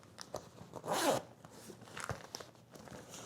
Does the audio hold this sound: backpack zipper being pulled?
yes